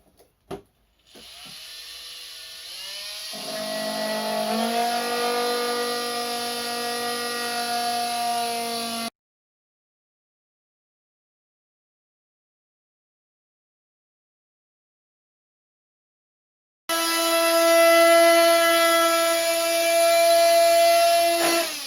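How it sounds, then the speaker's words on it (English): An oscillating multi-tool grinds through carbon fibre on a disc wheel cover, a loud steady buzzing drone that runs for several seconds, falls silent for a long gap, then resumes. "an oscillating tool that's going to grind its way through the carbon fibre essentially"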